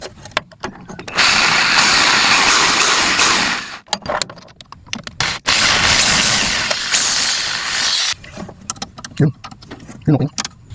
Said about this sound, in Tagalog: Luwangan natin mga ka-raper gamit tong drill para mas mabilis.